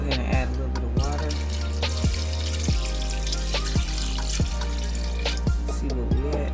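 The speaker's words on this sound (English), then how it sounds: "Go ahead and add a little bit of water." Water going into a pot of beef for yakamein, heard as a quiet, regular series of drips and small splashes over a low steady hum.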